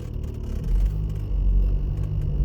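A car drives through town traffic during a practical driving exam. A steady low engine rumble and road noise come from inside the cabin, swelling slightly as it moves on.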